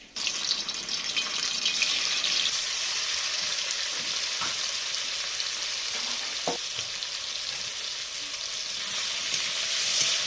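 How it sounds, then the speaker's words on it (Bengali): Meat pieces fry in hot oil in a wok with a loud, continuous crackling sizzle, broken by a couple of brief utensil knocks. "কড়াইতে তেলটা গরম হওয়ার পর মাংসগুলো ভেজে নেব একটা একটা করে"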